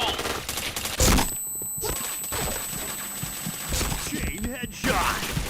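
Automatic gunfire in a first-person shooter video game, rapid bursts and shots layered over game sound effects, with a player talking throughout.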